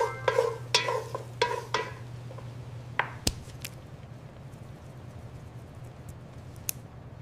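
Kitchen cooking sounds in a dinner scene with Spider-Man: a few sharp clinks and scrapes in the opening seconds, then a steady low background hiss with occasional faint taps.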